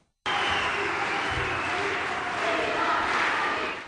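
Applause from the audience at an international conference for International Women's Day, a dense, steady wall of clapping mixed with crowd noise that starts abruptly and holds loud throughout.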